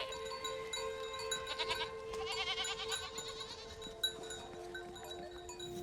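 Goats bleat in a few wavering, nasal calls, some overlapping, at moderate distance over a quiet outdoor background.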